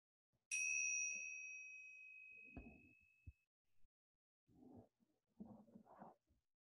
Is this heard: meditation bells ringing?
yes